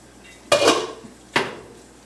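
Beets dropping into a large metal kettle give two sharp clattering knocks about a second apart, close and clear, with no talk.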